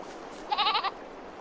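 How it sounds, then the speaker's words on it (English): A goat in Farming Simulator 22 on the Ballyspring farm map gives one short, wavering bleat, close and clear against a quiet background. "look, there's goats"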